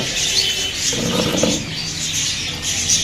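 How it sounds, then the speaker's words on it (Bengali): Many birds in a bird shop at a large market in Magura, with a steady bright chirping and tweeting chorus, a few cooing notes mixed in, continuous and fairly close throughout. "অসংখ্য পাখি আছে রায়ার দোকানে"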